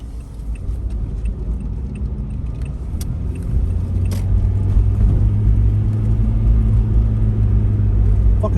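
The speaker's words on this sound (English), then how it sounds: "Fuck is that car?" A car rolls past nearby with a low engine rumble that swells noticeably partway through and stays loud and steady to the end, with a few faint clicks scattered over it.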